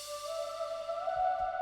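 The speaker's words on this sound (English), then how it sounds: "And lastly, just topping off of a riser" A Splice riser effect tops off a pop beat in the style of Tate McRae, holding a steady bright synthetic tone with a couple of soft low thumps near the end.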